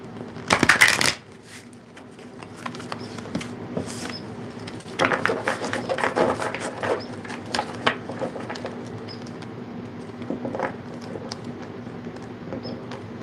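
A deck of tarot cards is shuffled close up during a reading, with a sharp riffle at the start followed by repeated soft rustling, flicking and tapping bursts, and no voices.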